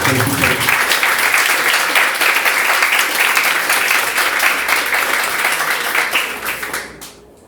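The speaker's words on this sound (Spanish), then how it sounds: "Les pido un fuerte aplauso y muchísimas gracias por escuchar." Loud, sustained applause from an audience at a book presentation at a Mexican technological institute, dense throughout before fading out at the end.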